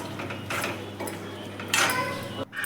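A metal spoon stirs chicken fry with coriander powder, chicken masala and garam masala in a pan, giving close, repeated clinks and scrapes against the metal with a louder clatter near the end.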